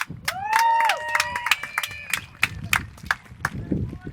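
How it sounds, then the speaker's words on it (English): Outdoor crowd at a grand parade and muster in Marlborough claps and cheers, scattered sharp hand claps and voices spread across the street, with a voice talking over the applause. "Big round of applause for the City of Marlborough"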